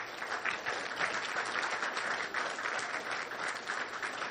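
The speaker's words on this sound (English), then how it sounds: "Round of applause for our panel." A room of people applaud a career fair panel, steady dense clapping held at an even level throughout with no breaks, a little distant and soft.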